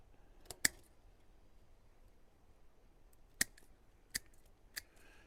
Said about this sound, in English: So I'm going to take this off right there. And then cut everything else off.